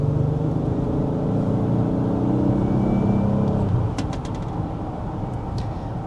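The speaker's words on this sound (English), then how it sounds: "this is a really smooth and also pretty quiet powertrain as well" The engine of a 2026 Acura MDX Type S running smoothly, a steady low hum that drops slightly in pitch and level midway as if easing off, with a few faint clicks afterward.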